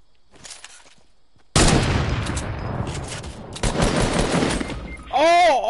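Gunfire in a Fortnite match erupts as a loud, close, sustained barrage of rapid shots after a quiet start, with a couple of heavier blasts and overlapping talk, ending in a warbling game effect.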